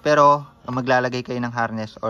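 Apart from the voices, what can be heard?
No everyday noises stand out.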